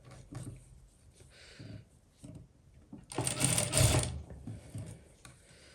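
A sewing machine stitching a sleeve onto a garment runs in short bursts with one longer louder whirring stretch, its needle clatter close and clear between quieter pauses.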